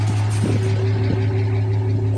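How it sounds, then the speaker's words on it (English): A truck's diesel engine idles at close range while it charges a 48-volt battery and runs a cooling van's air conditioning through an Andersen plug, giving a steady low rumble with a faint periodic knock and no voices. "The engine's just idling away here."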